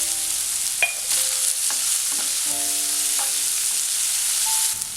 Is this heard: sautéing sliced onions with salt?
yes